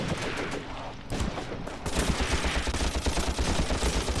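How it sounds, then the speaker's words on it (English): Sustained automatic fire from a small infantry machine gun in a World War II tactical battle, dense rapid bursts with overlapping shots, loud and continuous throughout. "It's just a really, really vicious little machine gun."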